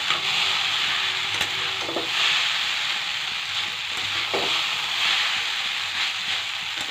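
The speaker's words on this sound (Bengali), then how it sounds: "এবার ম্যাগির সাথে ভালোভাবে মিশিয়ে কিছুক্ষণ ভাজা করে নেব।" Chow mein noodles with Maggi and spices stir-fried in a pan, giving a steady close sizzle and hiss with occasional scraping and stirring knocks, with no talking.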